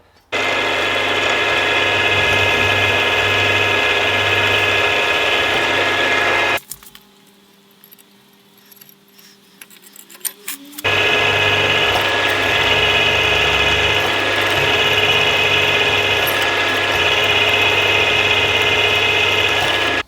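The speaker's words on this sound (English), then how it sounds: "But first, let's get this hole drilled." A drill boring a hole in the base casting of a Stuart S50 steam engine, a loud continuous motor whine that stops for a few seconds, then starts again and runs steadily to the end.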